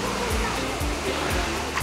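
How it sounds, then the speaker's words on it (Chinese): Waterfall dropping down a roughly three-storey rock face at a mountain spring source in New Taipei, a steady, loud, close roar of rushing water that never lets up. "队员们指着那一道坠落断层的瀑布"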